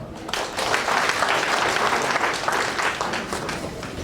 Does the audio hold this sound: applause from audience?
yes